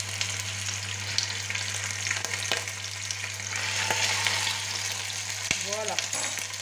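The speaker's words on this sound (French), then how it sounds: "Ensuite, on va mettre notre viande puisque notre huile est chaude" Pieces of turkey osso buco fry in hot oil, giving a steady broadband sizzle with brief clicks and knocks near the end and no voices.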